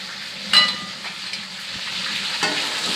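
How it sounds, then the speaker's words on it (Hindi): Half a kilo of chicken fries with ginger garlic paste and green chili, a soft continuous sizzle with a couple of brief louder spatters and clinks of stirring. "आधा किलो चिकन। इसको हमने थोड़ा फ्राई करना है।"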